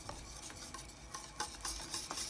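A spoon stirs cinnamon water and coconut milk in a pot on a stove heated toward a boil for banana oatmeal porridge, with quiet, irregular scraping and soft clinks against the pot, faint and close.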